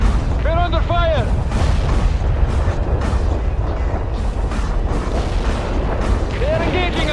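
Artillery fire in the PC strategy game World in Conflict is a continuous, loud barrage of deep booms and rumbling blasts. Short radio-style voice calls break through near the start and end.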